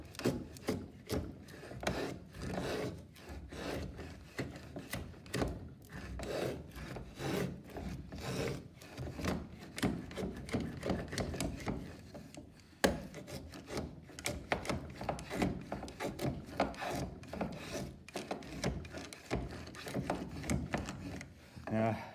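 A hand router plane shaves timber in repeated scraping, rasping strokes, deepening a cut in wood marked by a mortiser for an oil stone box; close, continuous and rhythmic throughout.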